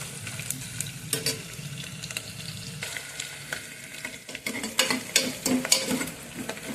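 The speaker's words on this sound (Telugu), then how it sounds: "ఇవి బ్రౌన్ కలర్ వచ్చేంత వరకు" Vegetables fry in oil for vegetable biryani and are stirred, giving a steady sizzle broken by scraping and clattering stirring strokes that grow busier toward the end.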